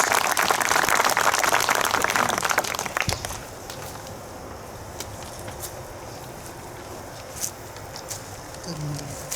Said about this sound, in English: If you would please give these service people a round of applause for thanks